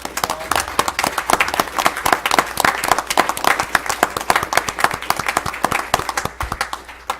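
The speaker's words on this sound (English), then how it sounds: "Let's give Kelsey a round of applause." Steady round of clapping from an audience at a city council meeting, many hands together, dense and even for about seven seconds before thinning slightly at the end.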